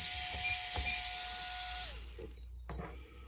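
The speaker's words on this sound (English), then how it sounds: "if I move it right, the motor will start turning without any control" Small electric motor in a Fokker Dr1 model aircraft spinning up uncontrolled, a steady high whine with a sustained tone that drops away near the end, followed by faint clicks and handling noise.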